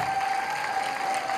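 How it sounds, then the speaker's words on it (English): Audience applause for first-time rally qualifiers at a training rally, a dense, steady clapping wash that holds evenly throughout, with a faint steady tone running underneath. "Can you give these guys a big round of applause?"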